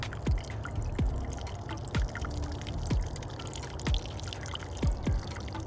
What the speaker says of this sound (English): So the water is going to go in.